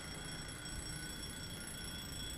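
A continuous electronic alarm clock rings steadily in a video game, a sustained tone with high buzzing overtones running unbroken through the whole moment at moderate level, with no talking.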